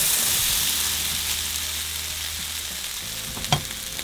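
Potatoes and carrots frying in hot oil in a pan for enchiladas norteñas, a bright, loud sizzle that eases slightly over the seconds, with a brief utensil clack near the end.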